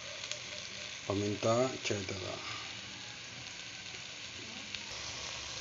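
Chicken feet in soy sauce simmer in a pan with a steady, soft sizzle and bubbling throughout, while a voice talks briefly over it near the middle.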